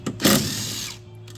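A power tool spins out screws from the cover of a Honda lawn mower engine: a single short, close whirring burst that rises quickly and then winds down, with no voices.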